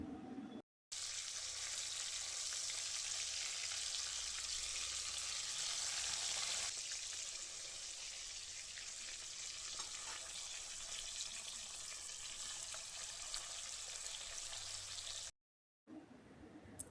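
Fish fry in hot oil in a pan, a steady close sizzle and crackle running throughout, louder in the first stretch, with a couple of brief silent breaks.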